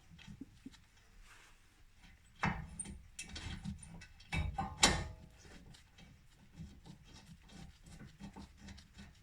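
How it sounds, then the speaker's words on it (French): A bolt being refitted on the rear brakes of a 2021 Mitsubishi Eclipse Cross, giving quiet ratcheting clicks and metallic scraping. The sound is close but faint, with a louder burst near the middle. "je vais remettre le boulon."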